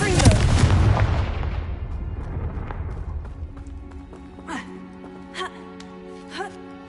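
The Confringo blast spell in Hogwarts Legacy opens with a loud booming explosion that decays into a long fading tail. A few faint magical chimes follow, with game music underneath.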